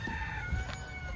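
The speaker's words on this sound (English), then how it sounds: "we'll have a chicken in the background" Chicken or rooster sounds faintly in the background at a 1976 CJ360 shed find being wet-sanded with 2000 grit, a brief call over low steady rumble, no talking.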